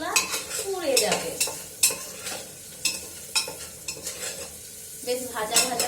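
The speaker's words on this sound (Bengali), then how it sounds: "বেশ ভাজা ভাজা পেঁয়াজ হয়ে গেছে।" Onions frying in a pan while being stirred, a steady sizzle broken by repeated scraping strokes and light clinks of a utensil against the metal, close and fairly loud with no talk.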